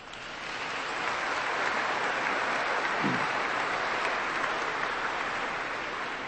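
An audience at the Prix Galien USA 2007 awards ceremony breaks into sustained applause that builds within the first second and holds steady and full, with no voices over it.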